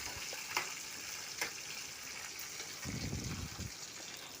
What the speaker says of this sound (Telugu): ఉల్లిపాయలు, పచ్చిమిరపకాయలు వేగిన తాలింపులో ఇలా వేసుకోవాలి